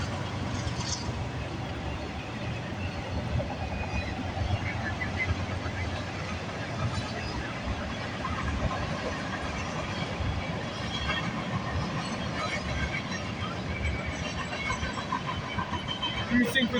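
A CN freight train rolls past at Bronte Street in Milton on a rainy day, a steady, loud broadband rumble and rattle of railcars continuing throughout with faint voices under it.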